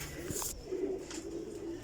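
Teddy Golden Kasuri pigeons give soft, repeated throaty coos nearby, a low continuous burbling broken by a short sharp rustle near the start, with no talking.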